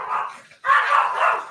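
Charlie, a brown dog, lets out two close, loud barks, the second following a brief pause, each with a slightly whiny, yelping edge.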